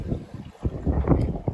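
A sailboat under way toward Monemvasia in Greece in a beam wind with fairly large waves, heard as loud, steady wind buffeting the microphone over a rushing wash of water, with no clear voices.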